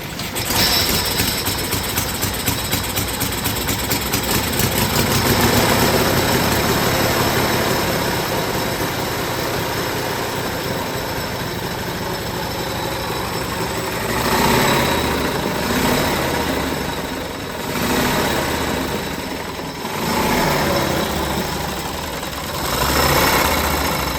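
A Royal Enfield 190 single-cylinder engine running after being started by hand, a steady loud close idle with a rhythmic low thump and mechanical rattle, swelling a few times as revs rise, no talking.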